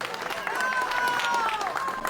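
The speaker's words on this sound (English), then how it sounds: "Crowds cheer as an injured man is pulled from the rubble of a collapsed building in Caracas" A crowd cheering and shouting as an injured man is pulled from the rubble of a collapsed building in Caracas after an earthquake, a dense mass of raised voices close by with scattered clapping.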